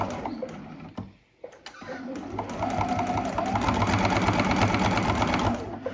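Domestic sewing machine stitching a fabric Easter egg, its fast rhythmic whirring starting after a brief pause and running steadily and close up for several seconds.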